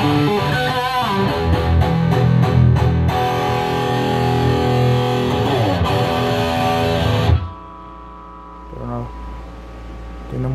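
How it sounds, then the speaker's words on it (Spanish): A guitar played through a cheap metal distortion pedal with the tone/treble and gain turned up gives loud, thick, buzzing chords for about seven seconds, then cuts to a quieter hiss and hum with a brief faint note. "si subimos los agudos, bueno, el tono y un poquito del tono y un poquito más de la distorsión o la ganancia, tendremos un sonido bien,"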